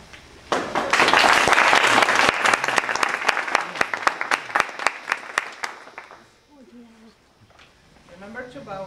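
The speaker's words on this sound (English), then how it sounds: "We are going to give a wonderful welcome and a big applause to Adara" An audience at a children's piano recital welcomes the first young performer with loud, sustained clapping that fades into separate claps, followed by quiet chatter from voices afterward.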